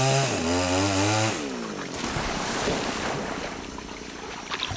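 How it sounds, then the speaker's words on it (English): A chainsaw cutting in the rainforest: the engine revs up with a rising whine, then drops into a rough, buzzing churn as it bites, steady and fairly close, with no talking. "Chainsaw action."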